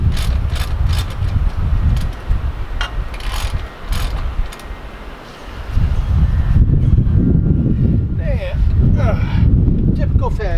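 A large wrench working a 19 mm bolt during an engine teardown, near a pulley, giving a run of sharp metallic ratchet clicks over a loud, busy mechanical background.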